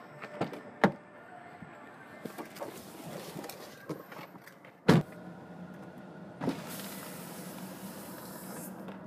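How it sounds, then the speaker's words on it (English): Power convertible top of a 2015 Roush Stage 2 Ford Mustang retracting: a whirring electric motor hum with clunks and latch thuds, then a steadier motor drone near the end. "Let's put the top down and see the rest of these features."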